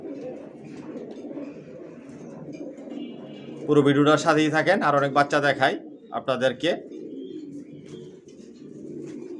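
Original racer pigeons of a Johnson line coo from a loft in a low, soft rumble, while someone talks loudly over them partway through.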